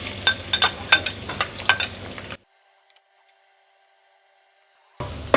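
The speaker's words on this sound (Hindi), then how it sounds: "गर्म मसाले के बाद हम इसमें प्याज डाल देंगे।" Onions frying in hot oil with whole garam masala in a kadhai, close and steady: sizzling with scraping stir strokes for about two seconds, then a sudden silence before the sizzle briefly returns at the end.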